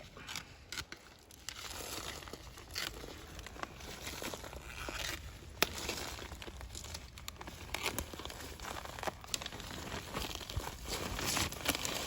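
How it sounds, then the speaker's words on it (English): Plastic potato grow bag filled with compost being cut open down its side, giving a steady close crinkling and tearing of plastic with small rustles and crunches throughout, no talking. "I'm going to cut down the side of the bag."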